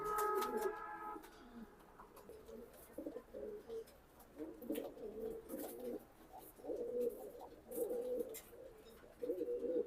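Racing pigeons coo in soft repeated bursts, near and fairly quiet, with occasional chirps and faint background noise.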